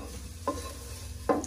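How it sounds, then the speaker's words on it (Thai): Stir-fried basil dish in a very hot wok with the gas already off, giving a steady sizzle plus two brief scraping stirs of the spatula, close up with no talk. "แต่ว่ามันกระทะร้อนมาก มันยังเดือดปุ๊บปั๊บปุ๊บปั๊บ"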